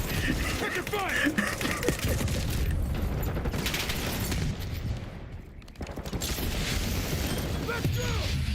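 Rapid bursts of automatic gunfire and dense firefights crackle through a Black Ops 6 online match, fairly loud and close, with a brief lull midway as players talk over the shooting.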